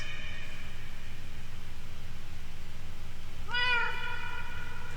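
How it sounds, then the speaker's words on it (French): A single cat meow in a video game rises clearly near the end over a steady hissing background hum. "Non, mais c'est qui miaule?"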